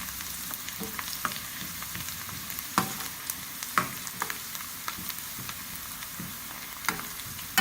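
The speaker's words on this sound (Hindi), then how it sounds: "प्याज और लहसुन हमारा फ्राई हो रहा है।" Steady sizzling of onion and garlic frying in hot oil, with occasional sharp crackles and stirring clinks, close by and without any talking.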